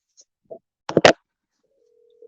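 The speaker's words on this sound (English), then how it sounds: "as you can hear, it's making a call" An outgoing phone call to a UK number: a few soft clicks and two sharp knocks, then a steady, fairly quiet ringing tone starts and holds to the end.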